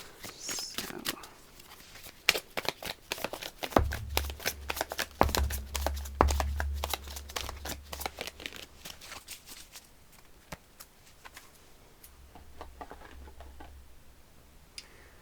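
Tarot cards riffle and shuffle in quick repeated bursts of crisp ticking snaps, close up, with a low hum running underneath partway through.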